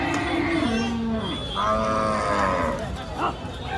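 Cattle at a busy livestock market moo repeatedly, one long drawn-out low call rising and falling, with other moos close by over a steady murmur of the crowd.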